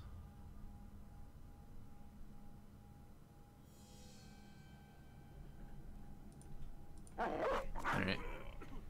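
War dogs barking in the Battle Brothers video game: a cluster of sharp, loud barks near the end, following a stretch of quiet tonal game ambience with a faint swish.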